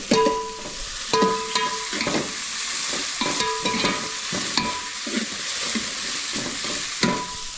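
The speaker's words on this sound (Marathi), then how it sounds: "मटण बिर्याणीसाठी मित्रांनो कांदा करपवायला घेतले, ऑनियन फ्राय बोलतात त्याला, आपण कांदा करपवू." Onions frying in oil in a pan for mutton biryani, with steady sizzling and repeated stirring scrapes and clinks throughout, close and fairly loud with no talking.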